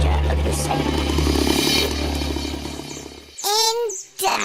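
A lyrebird mimicking a chainsaw gives a loud, steady buzzing drone for about three seconds, then breaks off into a few brief, sharp rising whistles and chirps before fading.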